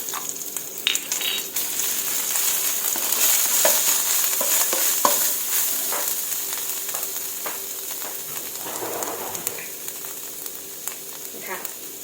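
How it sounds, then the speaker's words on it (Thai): Red curry paste sizzles and is stirred in hot oil for a spicy chicken offal and bamboo shoot curry, a steady crackling fry with occasional scraping of the utensil, close and continuous. "เอาพริกแกงลงไปผัดค่ะ"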